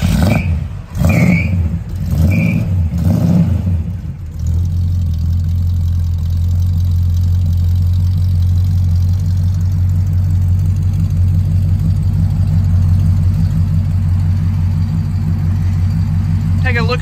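A 1956 Chevrolet 3100 pickup engine cranks in several rhythmic starter bursts, fires up and settles into a steady, loud, low rumbling idle.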